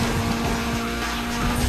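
Tires squeal and skid through a drift in Need for Speed Underground 2, a steady loud screech layered over a continuous engine roar that holds for under two seconds with no talk.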